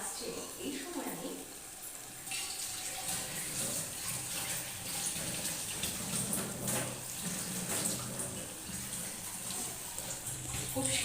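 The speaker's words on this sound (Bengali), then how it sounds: "জল অ্যাড করে দিলাম, যেটুকুন দরকার আমার চিকেনটা সেদ্ধ হওয়ার জন্য।" Water pours into a pan of simmering chicken curry, a soft continuous splashing and bubbling hiss heard fairly faint and close, with a few light clinks.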